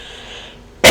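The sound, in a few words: cough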